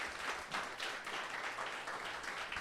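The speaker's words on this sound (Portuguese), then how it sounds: "aplaudam ao Senhor, glória a Deus" Church congregation applauding, a dense, sustained round of clapping from many hands at moderate distance, steady throughout.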